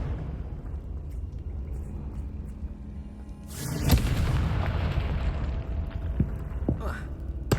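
Confringo spell blast in the Hogwarts Legacy video game, a sudden booming explosion with crackling aftermath following a quieter stretch of game ambience.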